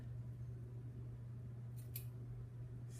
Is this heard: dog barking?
no